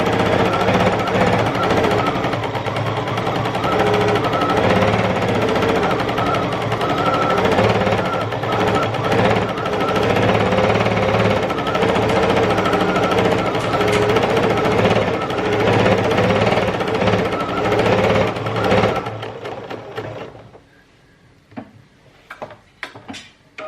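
A sewing machine stitches steadily for about twenty seconds, a dense mechanical whirr that runs alone before stopping, followed by a few faint clicks and taps.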